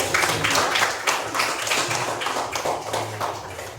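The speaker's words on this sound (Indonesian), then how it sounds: "Tepuk tangan untuk perbedaan" Students in a classroom clap together in a quick, fairly even rhythm of distinct claps, moderately loud and close, lasting a few seconds without speech.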